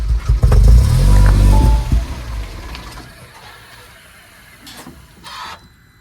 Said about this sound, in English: We're going to start the vehicle and let it die out.